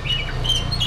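Agitated kacer (magpie robin) calling close by in short, sharp, high whistled chirps that come in quick succession, with no voices.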